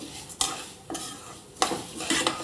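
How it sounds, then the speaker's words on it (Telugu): Ivy gourd (tindora) curry stirred and fried in a pan, with steady sizzling broken by several scraping stir strokes at a regular pace, close and fairly loud, no voices. "కలుపుతూ వేయించాలండి, లేదంటే మాడిపోద్ది."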